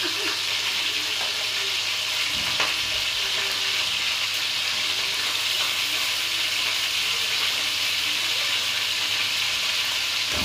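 Hot oil spattering during frying, a constant loud, close crackle and hiss filling the whole stretch, with a brief knock partway through.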